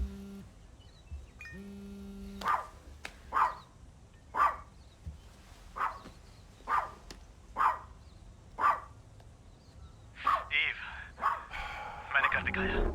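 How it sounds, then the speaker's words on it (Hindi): A dog barks repeatedly in an evenly spaced series of sharp, fairly close barks, about ten in a row, with a voice speaking at points and a tonal electronic beep before the barking starts. "भौंकना बंद करो विकी।"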